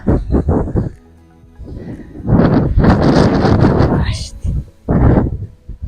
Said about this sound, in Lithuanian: va čia dabar yra vėjas, yra daug visokio šlamesio